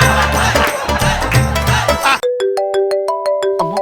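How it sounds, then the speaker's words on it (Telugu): A mobile phone ringtone cuts in abruptly after busy music and noise in a comedy skit scene, playing a loud, clear melody of repeating electronic tones. "అమ్మో, ఈ టైంలో ఫోన్ ఎవరు?"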